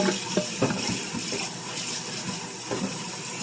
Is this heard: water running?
yes